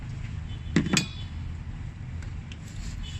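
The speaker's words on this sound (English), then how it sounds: "The next thing is to remove this bolt." A couple of quick metallic clinks of a tool against hardware while loosening the 14 mm center stud bolt of a rear engine mount on a 4-cylinder Honda Accord, set against a steady low background hum.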